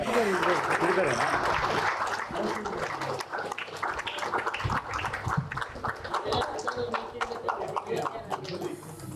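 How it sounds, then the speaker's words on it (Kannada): Standing ovation from an audience at an awards ceremony honouring artists, dense rolling applause under a voice talking over it, loud at first and then thinning into scattered clapping. "ಎಲ್ಲ ಗೌರವಾನ್ವಿತ ಕಲಾವಿದರಿಗೆ ಎದ್ದು ನಿಂತು ಜೋರಾದ ಚಪ್ಪಾಳೆ ಬರಬೇಕು"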